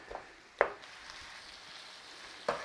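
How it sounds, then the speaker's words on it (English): Ground beef fries in a pan as it is turned, a soft steady sizzle broken by two sharp scrapes of the utensil against the pan. "Just give that beef a little turning over a little minute in there."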